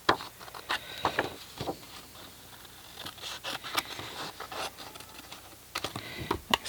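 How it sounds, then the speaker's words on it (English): Paper being trimmed for a stamped cube box card craft, a run of close, crisp scraping and cutting strokes with irregular rhythm and no talking. "So I'm just going to trim those."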